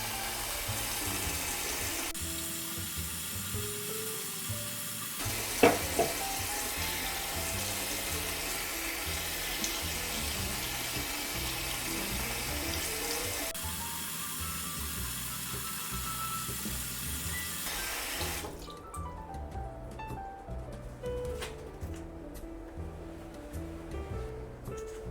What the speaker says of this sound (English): You can use soap and a Q-tip to wash that BB filling tube.